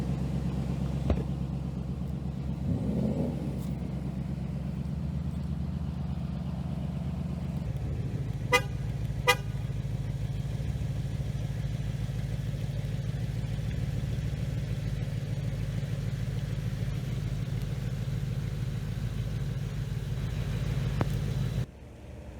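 A 2019 Ford Mustang GT rolls in with a low, steady engine rumble that continues for a long stretch, broken by a couple of brief sharp sounds like a horn toot, heard from a moderate distance.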